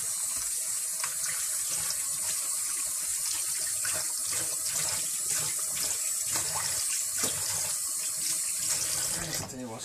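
Tap water runs steadily into a sink during washing for a plant setup, a continuous close splashing flow from start to finish with no talking over it.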